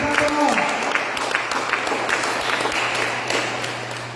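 A church congregation applauding during a gospel session, with dense steady clapping that fills the room and slowly fades, voices mingled faintly in the background.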